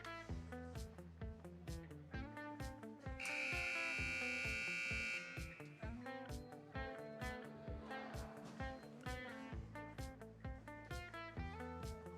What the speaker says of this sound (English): The buzzer goes.